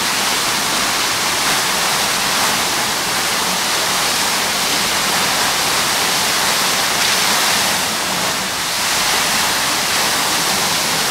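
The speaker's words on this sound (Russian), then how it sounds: "Еще мощный фонтан." A powerful fountain in Peterhof's Lower Park sends out a loud, steady roar of rushing, splashing water, broad and continuous throughout with no voices.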